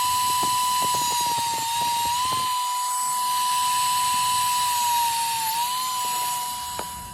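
High-pitched rotary tool whine while trimming a plastic headlight shroud on a 2004–08 Pontiac Grand Prix, a steady close-up tone with quick ticking contacts at first, no talking.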